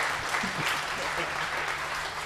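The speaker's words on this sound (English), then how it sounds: "I think this guy needs a big cheer" Applause and cheering rise from an audience at a conference talk about a badge project, a steady mass of clapping with scattered voices mixed in, moderately loud and sustained.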